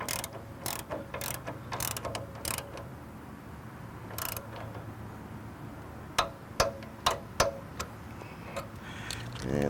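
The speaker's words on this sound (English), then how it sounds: "I'm going to use my torque wrench and torque all these bolts to 22 Newton meters" A torque wrench tightens the bolts on motorcycle rear guard bars, making quick, close ratcheting clicks in short bursts with pauses between them and a faint background hiss.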